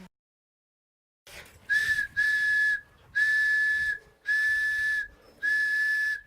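Handmade whistle blown in five short, loud, shrill blasts, evenly spaced after a brief silence, each a steady high pitch with breathy edges.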